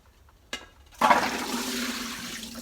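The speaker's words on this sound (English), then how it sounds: "I'm going to drain the water." Water pours out of a pot of cracked green olives into a colander in a kitchen, a sudden steady gush that holds for a couple of seconds after a brief knock.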